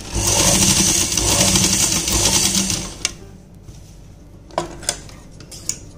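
A sewing machine runs steadily for about three seconds while stitching a seam on a palazzo, then stops, followed by a few sharp clicks and taps.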